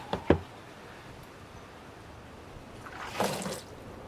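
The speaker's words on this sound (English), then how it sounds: "Now let's open up the Toughbuilt." A wet Toughbuilt StackTech tool box is opened with a couple of sharp plastic knocks and clicks from its latches, followed a few seconds later by a brief splash of water running off, close and fairly quiet.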